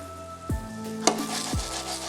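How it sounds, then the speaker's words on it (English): Eggplant frying in hot oil until golden brown, a steady close sizzle with a couple of soft stirring scrapes and a small clink. "just fry these off until they're nice and golden brown"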